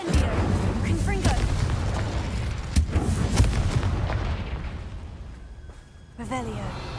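Fire and explosive spells in Hogwarts Legacy erupt in a rumbling burst of roaring flame and booming blasts, loud and sustained, with sharp cracks scattered through it and a fresh whoosh near the end.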